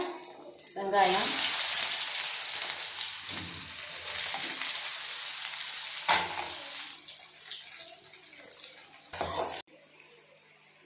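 Loud, steady sizzling of chopped onions frying in hot oil, with clinks from stirring and a brief louder hiss near the end.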